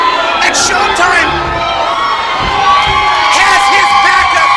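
Arena crowd at a wrestling show cheers, shouts and whoops loudly and continuously, with an announcer talking over the noise.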